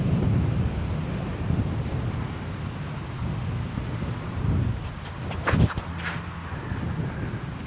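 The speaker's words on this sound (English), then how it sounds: "That wind is insane." Strong wind buffets the microphone on a disc golf course, a constant loud, low rumbling roar that swells in gusts, with a couple of brief sharp knocks near the end and no voices.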